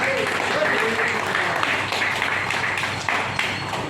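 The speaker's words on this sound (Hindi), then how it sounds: "हरि बोल, ताली बजाइए" An audience claps during a Hindi spiritual class, a dense continuous burst of applause filling the room for a few seconds, close and fairly loud.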